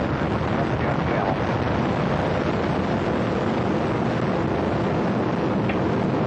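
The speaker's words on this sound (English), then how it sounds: "Liftoff of Space Shuttle Atlantis" The Space Shuttle Atlantis lifts off with a steady, dense broadband rocket roar that holds evenly loud throughout, with no speech heard over it.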